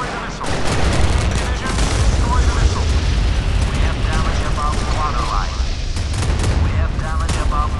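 Anti-aircraft guns on a warship in the Modern Warships video game fire dense, continuous rapid bursts with booming thuds at a missile, a loud sustained barrage from start to finish.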